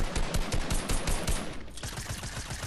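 Rapid automatic gunfire in Fortnite, a steady, loud stream of closely spaced shots rattling continuously with barely any pause.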